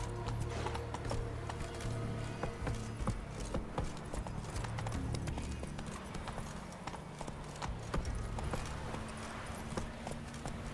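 A horse gallops in The Witcher 3 game, hooves beating a rapid steady clip-clop that continues throughout over a low rumbling background.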